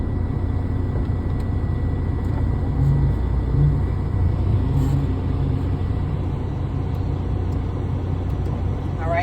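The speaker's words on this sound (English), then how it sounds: "I'm gonna press my foot down on the clutch, and I'm gonna start my engine all the way" Truck engine idling after a clutch-down start during a pre-trip inspection at a driving school, a continuous low rumble that stays steady and close with no talk over it.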